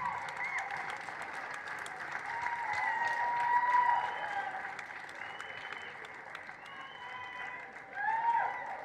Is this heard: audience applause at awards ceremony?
yes